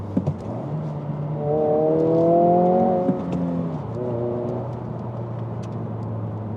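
A 2024 Honda Civic Si engine revs up and down with automatic rev matching on downshifts while driving, a steady close engine drone with rising and falling whirring tones, no talking.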